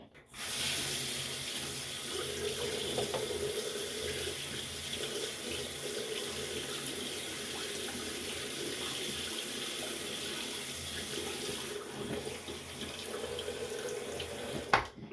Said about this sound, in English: let me finish rinsing off